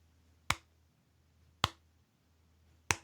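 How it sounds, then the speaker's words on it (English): A slow clap: three sharp, isolated claps spaced more than a second apart, close and crisp against a quiet background. "That's a slow clap"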